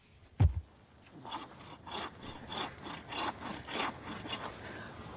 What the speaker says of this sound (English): including cutting down your own Christmas tree